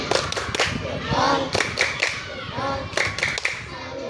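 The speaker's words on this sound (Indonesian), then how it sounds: "Tepuk salut dulu buat Palguna karena udah bisa menjelaskan gaya gravitasi" Children in a classroom clap for a classmate who has explained gravity, a short burst of scattered hand claps mixed with close kids' voices and a teacher talking.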